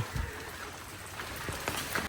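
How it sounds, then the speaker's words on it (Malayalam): Steady rain falls through a rainy day, a dense continuous patter with scattered louder drops striking a surface nearby. "ആ മഴ പെയ്തോണ്ടിരിക്കാണ്"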